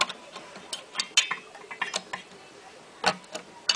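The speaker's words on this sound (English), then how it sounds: "we need a screwdriver or something to just wedge it here and push the PCB down" A screwdriver is wedged in to press a circuit board down inside a Xantrex GT series inverter, giving a quiet scatter of sharp plastic clicks and small scraping ticks close by.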